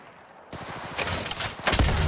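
An enemy squad in the Apex Legends Mobile video game opens fire, producing a rapid burst of gunshots that starts abruptly and keeps rattling, fairly loud and close, with no talk over it.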